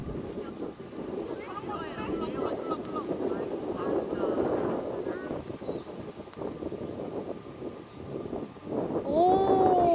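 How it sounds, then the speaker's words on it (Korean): Strong wind buffets the microphone on a seaside golf course near Osaka, a steady roaring rush throughout with people talking faintly underneath and a short whistle-like tone at the very end. "바람이 세고"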